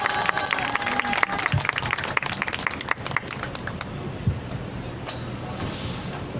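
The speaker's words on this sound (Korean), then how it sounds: "박수 한번 주시기 바랍니다." Applause from an outdoor rally crowd at the Wednesday demonstration on the Japanese military sexual slavery issue, sharp scattered clapping that thins out into a noisy open-air wash with passing traffic and faint voices.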